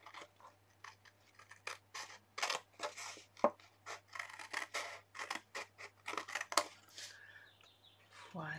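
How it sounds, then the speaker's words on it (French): Scissors snip through paper rectangles for a handmade gift pouch, a close series of crisp irregular cuts and slicing rustles, fairly quiet, with faint talk at moments. "Donc vous voyez, j'ai coupé les deux rectangles ici."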